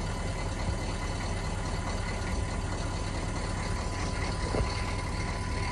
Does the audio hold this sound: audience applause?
no